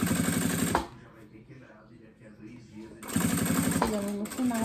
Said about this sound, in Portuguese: Paro, ajeito e continuo a costura.